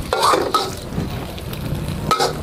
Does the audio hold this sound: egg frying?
yes